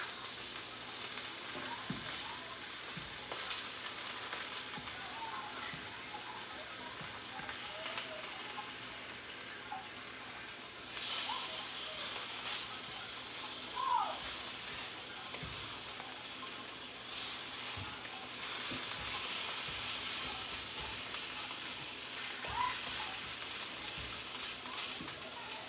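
Onions frying in a pan, a steady broadband sizzle that holds for the whole stretch, with a few brief stirring scrapes and clatters. The sizzle swells louder at a couple of points. No one speaks.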